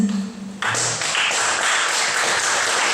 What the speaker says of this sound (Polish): Gorąco brawa dla Was, brawa dla Was, dla wykonawców